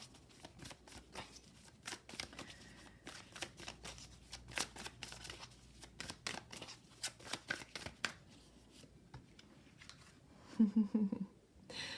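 Oracle cards being shuffled for a weekend reading, a run of quick papery riffles and soft slaps close by, with no talk over them.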